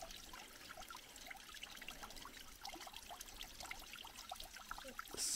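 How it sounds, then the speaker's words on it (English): A small amount of creek water trickles steadily through a culvert, a faint, continuous dribbling and burbling with no voices. "Some water does flow down that canal."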